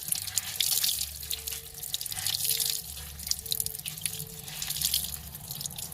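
Water runs steadily from a tap over turmeric-dyed tie-dye fabric with splashing and dripping, a continuous broadband rush with faint low tones underneath, no voices.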